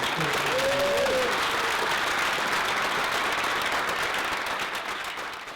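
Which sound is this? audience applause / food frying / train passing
audience applause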